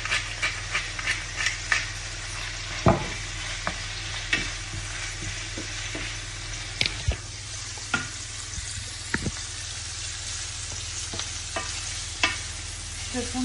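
Onion sizzling as it fries in a pan, with frequent scraping and clicking strokes of a utensil stirring it, steady and close with no talking.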